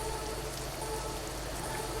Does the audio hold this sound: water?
no